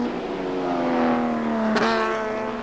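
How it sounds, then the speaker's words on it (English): A 1986 BMW touring race car storms past on track, its engine a loud, sustained high drone that rises then drops in pitch as it goes by, with no commentary over it. "the BMW storms by as Walkinshaw slows"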